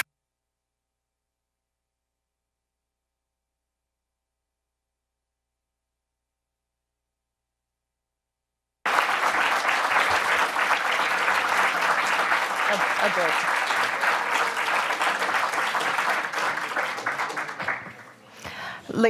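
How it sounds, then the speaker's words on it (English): Applause breaks out at a school board meeting after about nine seconds of silence, a steady, full-room clapping that holds for around eight seconds before tapering off. "would you please hold the applause"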